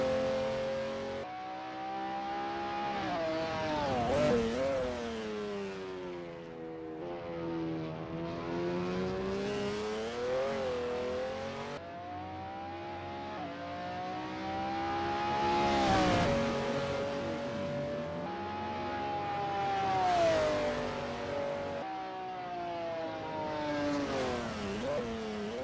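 A McLaren F1 GTR race car laps the Sonoma circuit in a racing game, its engine howling up through the gears and dropping on downshifts in repeated sweeping cycles, loud and continuous with no voices.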